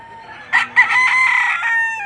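Close, loud crowing from a white gold fighting cock at a seller's place near Taal, Batangas: a short lead-in note, then one sustained, wavering call that trails off.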